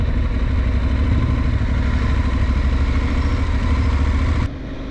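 Motorcycle engine idling steadily on a street in Thimphu, Bhutan, a close, loud, even rumble that cuts down sharply just before the end.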